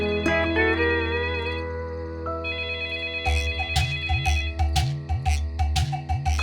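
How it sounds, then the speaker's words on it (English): A cartoon telephone rings in a bright electronic warble, first a sustained tone and then a rapid series of repeated ring pulses, loud and close with no voices. "suddenly the phone rang"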